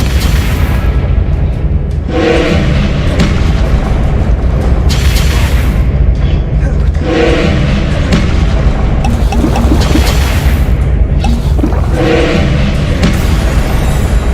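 Repeated booming fire-spell blasts from the Hogwarts Legacy video game, several deep loud explosions in succession over a constant rumbling game soundscape, with no talking.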